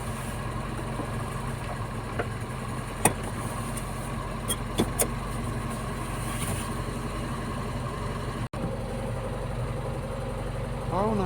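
Volvo car engine idles at a steady, even rumble with faint clicks and a couple of brief ticks, then the drone continues unchanged; no speech.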